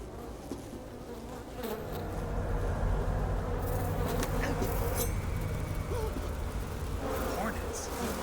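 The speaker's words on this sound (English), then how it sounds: "Hornets." Hornets swarming in the Metal Gear Solid Delta: Snake Eater video game, a dense droning buzz that swells in and holds close and loud, with a few sharp game effects over it.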